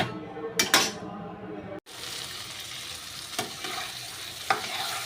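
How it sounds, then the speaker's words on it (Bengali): Potatoes and spices fry in a pan for a tengra fish curry with potato and eggplant, a steady close sizzle with occasional spoon clinks and stirring scrapes against the pan. "আলুটা মশলাটা কষানো হয়ে গেছে"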